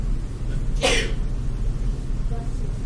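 A single sharp sneeze, close and loud, breaking an otherwise quiet room.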